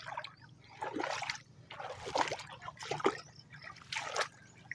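A water pump draws river water into a rice field, giving a steady low engine drone under bursts of rushing, splashing water that surge and fade every second or so, heard close.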